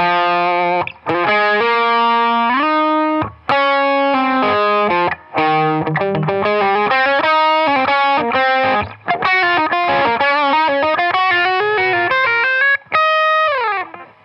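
Electric guitar through a Klon KTR with a Tube Screamer overdrive pedal, playing a melodic line of sustained notes and chords, with a warm, gritty distortion and brief pauses between phrases.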